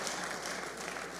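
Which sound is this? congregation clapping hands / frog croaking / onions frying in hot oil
congregation clapping hands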